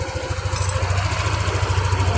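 A Yamaha NMAX scooter, running again after a fuel pump fix, idles close by with a steady, rapid low thrum, no voices over it.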